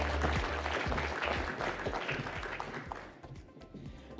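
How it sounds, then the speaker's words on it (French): Audience applauding at an award ceremony, dense clapping that is loud at first and gradually thins and fades over a few seconds. "On va les applaudir une dernière fois fortement."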